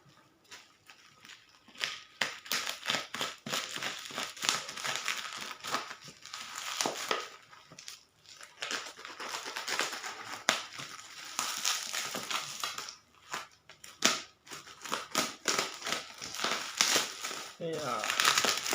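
Parcel holding a cheap PlayStation controller being unboxed, with repeated plastic crinkling and crushing of packaging up close, in irregular bursts throughout, with some talk mixed in.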